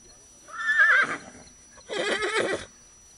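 A three-year-old mustang gelding from Oregon whinnies twice at close range, a loud, high neigh followed by a second shorter, lower call, with no talk over it.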